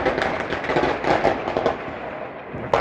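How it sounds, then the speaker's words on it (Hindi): Firecrackers bursting during Diwali celebrations, a loud, dense run of crackling pops and bangs that continues throughout. "पटाखे भी फूटने लग गए हैं अभी से भाई।"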